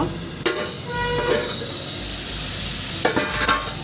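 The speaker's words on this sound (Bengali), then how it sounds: "লবণ দিয়ে ভেজে নিচ্ছি ফোড়ন" Vegetable stalks frying with salt and tempering spices in a pan, a steady close sizzle with a few sharp clanks of a spoon or lid over a low hum.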